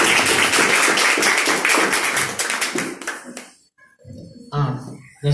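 A church congregation claps together in a dense, loud burst of applause that thins out and stops after about three and a half seconds, followed by a quieter stretch and a brief voice.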